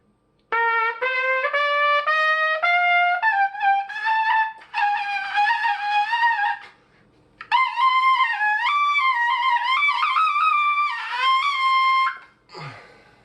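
A trumpet plays a run of sustained, climbing notes that turn thin and strained at the top, loud and close, ending with a short breathy scrape.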